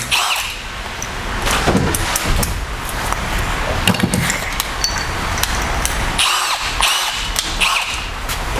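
Screws being backed out of the top door trim on a 2015+ Ford Mustang, with near, steady tool whirring and clicks in several short bursts across the clip.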